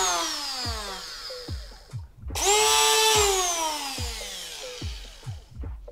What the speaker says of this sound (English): So today I'll be reviewing this rotary drywall cutter